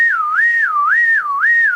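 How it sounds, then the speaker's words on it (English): A person whistles a smooth tone that glides up and down in pitch in an even, repeating wave, about three full swoops, clear and close with no other sound. "What you can have them do is whistle up and down"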